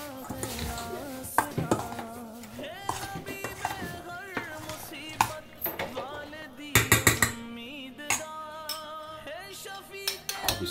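Chickpea chana chaat salad being mixed in a bowl, with spoon clinks and scrapes against the dish in an irregular rhythm, close and fairly clear over a soft background hum.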